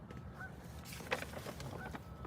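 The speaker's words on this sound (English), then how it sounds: "The geese are getting... Oh, you can hear them?" Faint honking of geese in the distance, a few scattered calls over a rumbling outdoor background.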